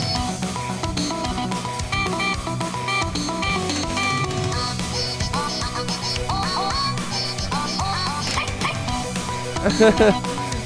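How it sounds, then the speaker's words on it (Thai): Cartoonish dog barks and yips in a Friday Night Funkin' mod video game (Vs Saber / Vs Chira), repeated in short bursts over continuous loud game music with vocals, growing busier near the end. "มีเสียงหมาเห่าด้วย"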